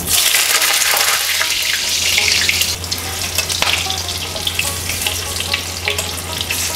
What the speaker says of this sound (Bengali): এবার আলুগুলো ভেজে তুলে নেব।